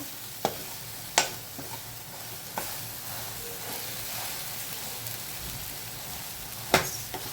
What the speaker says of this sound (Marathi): त्या तेलात कांद्यात आणि मिरची लसूणाच्या मिठात सगळं असे मिक्स होतात असे परतून घ्यायचं मस्त